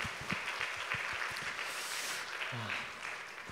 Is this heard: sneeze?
no